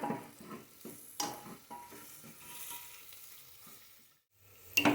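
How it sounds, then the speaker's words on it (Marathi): Onion frying in a pan over a high flame, with a soft sizzle and intermittent scraping stirs, close by and fairly quiet, dropping away briefly near the end before a clatter returns. "कांदा एकदम व्यवस्थित फ्राय करून घ्यायचा, हाय फ्लेमवरतीच करायचा"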